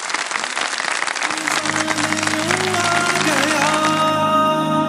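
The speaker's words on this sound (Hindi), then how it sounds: "तीनों के लिए बहुत सारी तालियां बजा दें।" A studio audience at a Ramadan quiz show claps for three contestants, dense loud applause that is soon joined by music with sustained tones rising beneath it.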